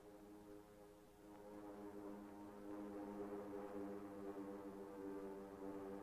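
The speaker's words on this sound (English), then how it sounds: "the drone of planes was faintly heard" Faint, steady drone of approaching propeller aircraft at Pearl Harbor in 1941, a low harmonic hum that swells slightly as it draws nearer, with no voices.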